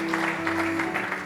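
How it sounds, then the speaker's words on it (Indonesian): A church congregation at a worship service claps in applause for Jesus, a soft, fairly distant patter over sustained musical tones. "Berikan tepuk tangan yang paling meriah buat Yesus Tuhan"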